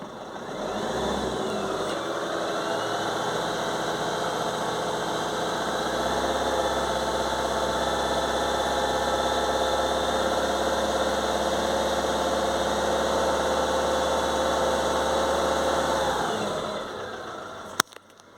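A Fiat Ducato van's diesel engine idles steadily at close range with a low, even rumble and faint knock for about sixteen seconds, then cuts off, followed by a brief click.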